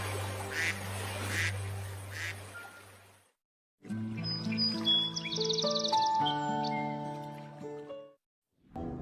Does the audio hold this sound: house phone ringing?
no